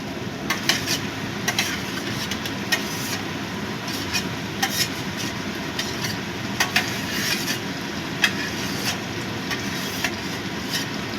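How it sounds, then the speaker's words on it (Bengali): Small mola carplet fish are stirred into onions frying in a pan, giving steady scraping and stirring with occasional utensil clicks over a continuous low sizzle, close up, with no voices. "এবার আমি এই মাছগুলো এর মধ্যে দিয়ে দেব।"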